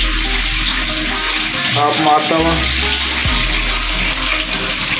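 Hot water runs steadily from a tap in a cheap Islamabad hotel bathroom, a loud, constant rushing splash filling the space, with a brief spoken phrase over it.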